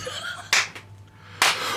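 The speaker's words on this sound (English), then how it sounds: "Okay, Dom, clap us in." Two sharp, close hand claps, a bit under a second apart, cut in after a brief bit of talk in a quiet pub room.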